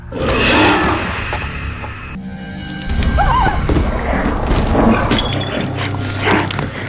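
Horses whinny amid a violent attack by a band of horsemen on an elderly married couple, a loud neigh standing out mid-clip over rumbling hooves, crashes and dramatic background score.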